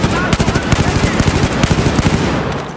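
Rapid bursts of automatic gunfire in a Battlefield 4 multiplayer conquest match on Xbox One, loud, dense and repeated throughout, with a voice talking briefly underneath.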